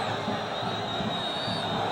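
Náutico supporters in a football stadium during a 2011 Copa do Brasil match against Vasco, a steady distant crowd roar with a faint rise of cheering beneath a broadcast commentary voice.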